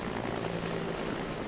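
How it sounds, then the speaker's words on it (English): A helicopter in the video game X-Men Origins: Wolverine, a steady whirring rotor drone with a faint pulsing beat, moderately loud and continuous, with no talking. "Dude, turn around and take down that helicopter."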